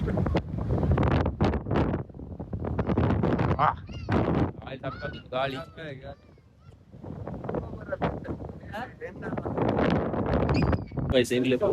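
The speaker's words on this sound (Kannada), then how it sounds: "ಕೋಲ್ಡ್ ಗಾಳಿ" Cold wind buffets the microphone during a monsoon motorbike ride near Mangalore, a continuous rough rumble that sits under near, steady talking throughout.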